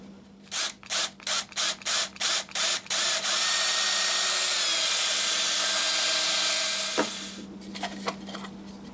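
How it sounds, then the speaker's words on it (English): A power drill drills out rivets in a rapid series of short bursts, then whines steadily for several seconds before stopping, followed by a few faint clicks. "Why don't we just drill out these rivets"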